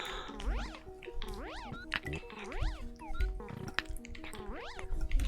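A cartoonish in-game cat meows in a few rising and falling calls over busy video game music, moderately loud.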